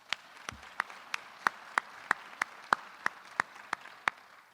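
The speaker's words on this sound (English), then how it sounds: "Let's give her one more round of applause" Applause at a Hall of Fame induction ceremony for an honoree: about a dozen sharp, evenly spaced claps ring out one by one over a quiet room tone, fairly close, with no voices.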